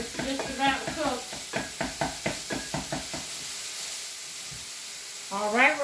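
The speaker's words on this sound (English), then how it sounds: "let's chop this hamburger, this sausage up a little bit more" Hamburger and sausage cooking in a pan for a breakfast casserole, broken up with a utensil. Close, rhythmic scraping knocks sound over a soft sizzle, and a voice is heard near the start and end.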